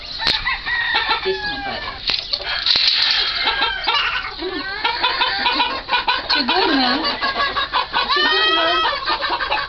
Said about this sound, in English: This is the world's smallest fighting rooster.